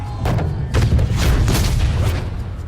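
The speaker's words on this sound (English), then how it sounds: "That ball is on fire. It's melting going through the air." A tee shot in a PGA Tour video game sends a flaming golf ball through the air, heard as a deep rumbling whoosh with soft booming swells that rises and holds for a couple of seconds.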